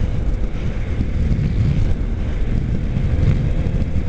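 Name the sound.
motorcycle engine revving with more throttle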